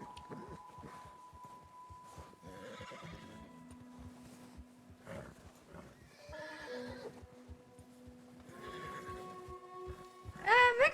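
A horse in a video game whinnies several times and its hooves clip-clop at a steady gait, with a louder, sharper neigh near the end, all under quiet background game sounds.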